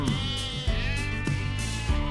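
Sheep bleat in drawn-out, wavering calls over a steady background, several cries following one another at moderate loudness.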